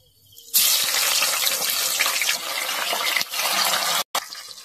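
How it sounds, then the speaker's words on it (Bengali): Chicken sticks dropped one by one into hot oil, a sudden loud, continuous sizzling hiss after a quiet start, with a brief break near the end. "এক এক করে তেলেতে ভেজে নেব।"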